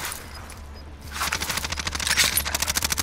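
An enemy fires on a player in the Warzone shooter: a rapid, steady string of gunshots at close-to-mid range, starting after a quieter moment and running to the end without a pause.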